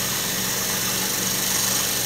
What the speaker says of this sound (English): Now to meet this curvature right here, I've got my double-ended Boxmaster scraper.